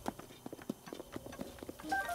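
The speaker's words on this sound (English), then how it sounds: "You're my horse, Lazlo." Horse hooves clip-clop at a steady walking pace in Zelda: Breath of the Wild, evenly spaced soft thuds over quiet outdoor ambience, ending with a short chime.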